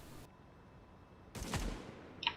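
A single gunshot in The Division video game, a sharp close crack with a short decaying tail, followed by a small game sound effect, with no voices.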